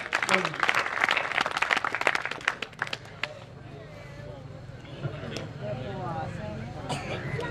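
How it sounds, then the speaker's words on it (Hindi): Applause from the audience at a kavi sammelan poetry gathering at a village fair, dense clapping for the first three seconds, then thinning into crowd murmur and scattered talk. "आप जोरदार तालियों से"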